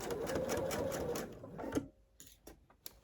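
A sewing machine runs in a fast, steady burst stitching seams on a batik snowflake quilt, then stops, followed by a few soft clicks and taps.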